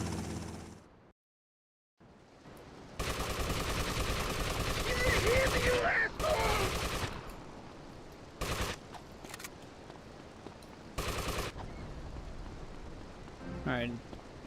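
Bursts of automatic gunfire rattle through a GTA: Liberty City Stories shootout, loud and close, in several separate volleys with short gaps between them, after a brief silence at the start.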